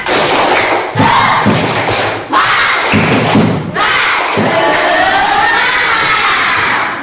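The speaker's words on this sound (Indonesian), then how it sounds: "Tepuk semangat dulu deh." A primary school class performs a rhythmic spirit clap together, loud group claps in steady bursts mixed with shouted voices, with short pauses between phrases.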